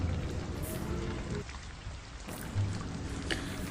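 Heavy rain pours steadily in a dense, hissing wash, with a low rumble swelling underneath at moments.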